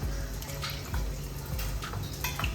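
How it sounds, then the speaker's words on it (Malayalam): Water streams into a pan of brinjal curry being mixed, making a continuous close splashing pour with a few brief drips and clinks. "കുറച്ചും കൂടെ വെള്ളം ഒഴിക്കാം."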